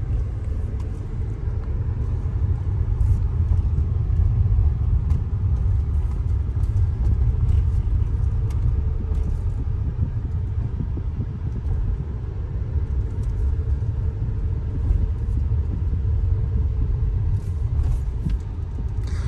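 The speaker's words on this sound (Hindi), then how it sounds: "नेक्सॉन काफ़ी बढ़िया चला रहे हैं अपनी" A Tata Nexon is driven, heard from inside as a constant low road and engine rumble with steady tire noise, no clear speech over it.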